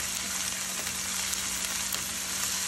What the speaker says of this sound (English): I'm going to saute that